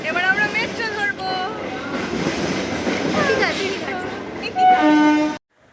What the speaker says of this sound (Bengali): মেট্রো ঢুকে গেছে স্টেশনে